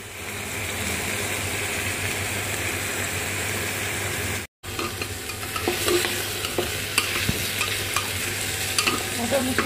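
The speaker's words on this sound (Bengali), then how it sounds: "এবারে মুগ ডালটা ভাজা ভাজা হয়ে গেছে।" Moong dal fries in a pan with a dense, continuous sizzle, close and steady, while a spatula stirs and scrapes through it in irregular rustling strokes; a brief dropout interrupts the sound near the middle.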